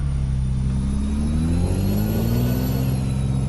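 A Peterbilt 389 truck engine in Euro Truck Simulator 2 revs up, its low droning rumble rising steadily in pitch, loud and continuous with no talking.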